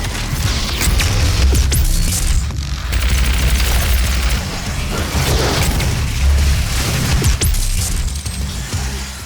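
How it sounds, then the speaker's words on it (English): BFG 9000 energy cannon from Doom 2016 discharging with heavy booming blasts and crashing explosions, a dense loud barrage of bursts and rumbles that stays continuous throughout. "The BFG 9000 is a very big gun. You press button, room goes boom."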